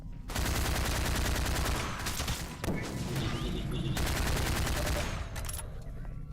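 AR-2 rifle fire in Half-Life 2 in a close-quarters cavern, loud rapid automatic bursts running almost continuously with a couple of brief pauses.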